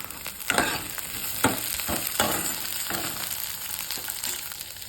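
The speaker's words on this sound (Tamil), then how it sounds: "லேசாக வதக்கிட்டு அதுக்கிட்ட கட் பண்ண தக்காளி வந்து சேர்த்துக்கிறேன்" Cut tomatoes and onions sauté in a pan for an egg curry, a steady close sizzle broken by several sharp spoon stirs and scrapes, with no talking.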